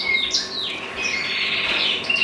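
Intensive red-feathered unflighted miniature mule canary in an indoor birdroom, giving a steady stream of high chirps and twittering song close by, with no voices over it.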